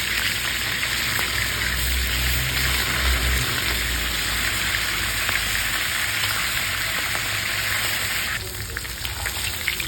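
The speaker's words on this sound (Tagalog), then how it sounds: "Prituhin muna natin yung ating tulingang isda." Bullet tuna (tulingan) fish frying in a pan, a steady dense sizzle that holds nearly unbroken for about eight seconds and then thins slightly near the end, with no voices.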